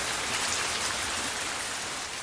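Steady rain falls in a continuous broadband hiss, dense and even throughout, with no voices.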